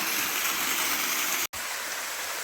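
Steady broadband rush of water pouring down Tanners Falls, a continuous close wash with a brief dropout midway, no voices.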